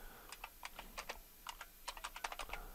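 Computer keyboard keys tapped in quick irregular bursts while entering a command in a Debian Linux terminal, crisp close clicks with short pauses between groups of keystrokes and no talking.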